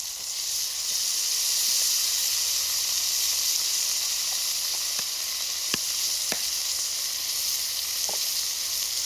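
Minced ginger and garlic sizzle steadily in a hot pan, a loud continuous hiss with a few sharp crackles and pops scattered through it, no voices.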